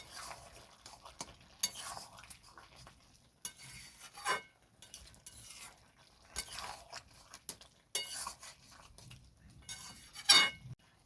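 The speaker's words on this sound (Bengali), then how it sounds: "আরও একবার মিক্স করে নেব।" Spoon stirring and mixing panch mishali ghonto, a mixed vegetable dish with ghee, in a pan, with scraping strokes and soft sizzling in repeated bursts, sharp clinks of the spoon against the pan near the end.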